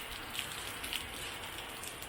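Steady summer rain patters on surfaces during a Philippine downpour, a soft continuous hiss with faint scattered drops and no voices.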